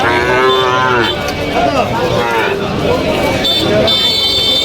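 Sahiwal bulls low loudly and repeatedly up close at a cattle market amid busy crowd chatter, with a car horn sounding briefly near the end.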